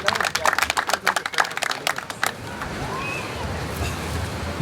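Spectators clap at a Zone 5 African beach volleyball tournament, a rapid, crowded patter of hands for a couple of seconds that gives way to a steady, wide wash of outdoor noise.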